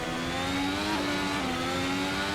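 A 2017 works Ferrari engine in the Assetto Corsa racing game bogs down at low revs, a steady mid-pitched drone that sags and slowly climbs, heard alone at moderate level.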